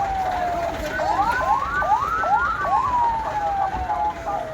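A wailing emergency siren from a fire truck responding to a fatal highway crash on the Jakarta–Cikampek toll road rises and falls in quick repeated sweeps, steady and fairly close over a noisy roadside background.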